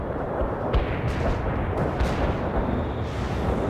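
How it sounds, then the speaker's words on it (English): Heavy artillery strike in World in Conflict, a dense, continuous rumble of explosions with repeated booms rolling over each other, loud and sustained with no talk. "Artillery strike is on the way."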